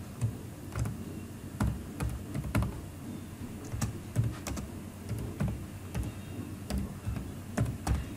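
Keys clatter on a computer keyboard as a programming question is typed out, a steady run of light, irregular clicks close by with no talking.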